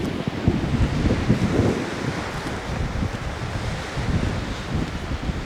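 Gusty wind buffets the microphone at the seaside at Dunraven Bay in South Wales, a constant low roar with surf washing faintly underneath and no talk.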